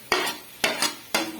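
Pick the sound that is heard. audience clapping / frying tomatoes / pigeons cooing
frying tomatoes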